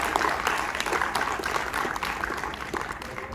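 Audience applause rolls on as a dense, continuous patter of clapping throughout the room at a youth festival, with a hint of crowd murmur underneath.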